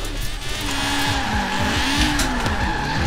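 A Honda Civic R with a two-litre engine drifts in Forza Horizon 4, its tires squealing loudly and continuously while the engine revs rise and fall rhythmically underneath, close up and without any voices.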